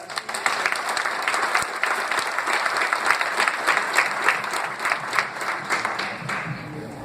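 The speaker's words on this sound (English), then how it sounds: "Let's give a round of applause for all of us." Attendees at a 2016 government meeting on crime give a round of applause, a full, sustained clapping crowd lasting about seven seconds, moderately loud and even.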